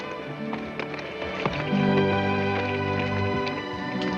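A horse's hooves clop in an irregular rhythm close by, with the horse snorting and low rumbling sounds in the background.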